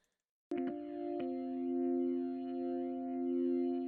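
Hammond B3 organ chord run through a distortion plugin for grit, entering sharply after a brief silence and then sustaining as a steady, thick, slightly swirling tone with no voices.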